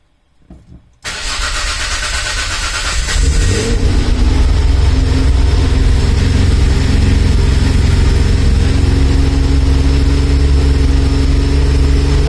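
A V6 engine fitted in a Mazda MX5 cranks after a brief quiet start, catches and settles into a loud, steady, rough idle that drones on close by with no voices.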